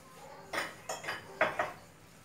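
Yellow crockery pieces, a milk jug and matching set, clink against each other while being handled, giving four or five short, light knocks and chinks in quick, uneven succession at moderate loudness.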